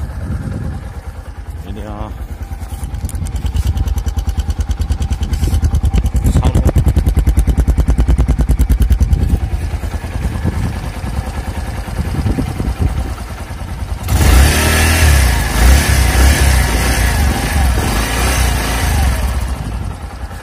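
A Bajaj CT 110 motorcycle engine idles and revs with a rattling, throbbing drone, close up; it surges louder in the last few seconds.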